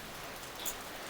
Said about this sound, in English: I love rain. I love rain the most.